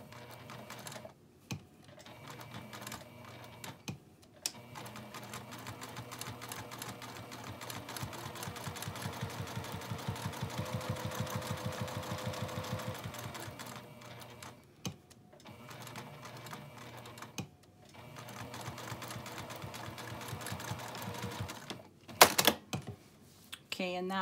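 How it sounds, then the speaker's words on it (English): A sewing machine top stitches around the edge of a teacher's apron in steady running bursts with short pauses between, moderately close, and a voice talks briefly at times. "And now I'm just gonna top stitch around the edge."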